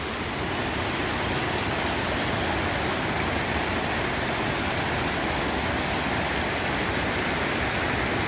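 Steady, loud roar of the Mençuna waterfall in Arhavi, a broad continuous rush of falling water close by with no pauses or voices.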